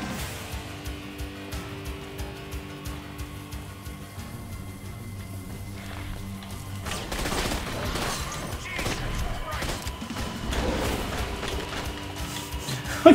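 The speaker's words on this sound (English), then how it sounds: "He shot me." Gunfire in The Darkness video game, bursts of shots under a loud, dense game mix with music, growing busier and louder in the second half.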